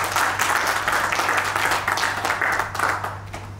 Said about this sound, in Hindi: एक बार तालियों से आज के मुख्य अतिथि का स्वागत।